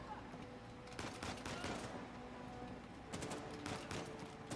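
Bursts of rapid sniper and automatic gunfire in Uncharted, coming in clustered volleys with brief pauses between them, loud and continuous over a background of game ambience.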